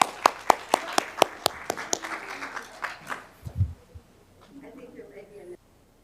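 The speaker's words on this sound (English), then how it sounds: "One more round of applause." An audience at a city council meeting gives a round of applause, about a dozen sharp separate claps at first that thin out as people begin talking.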